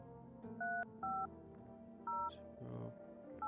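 Four short, loud telephone keypad dialing tones beep at uneven intervals inside the video game I'm Not A Human. Faint background sounds run between the beeps.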